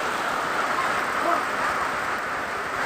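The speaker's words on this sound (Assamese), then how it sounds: "পুৰা ডাঙৰ বৰষুণ হৈ গ'ল" Heavy rain pours down in a steady, dense hiss that fills the whole stretch without a break, falling outdoors during a monsoon fishing outing.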